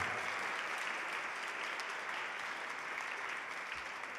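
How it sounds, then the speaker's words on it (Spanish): Steady, fairly faint applause from the audience at a school awards ceremony honouring a student prize winner, even clapping throughout with no break. "Le damos entonces un fuerte, fuerte aplauso al premio Madame Gabriel."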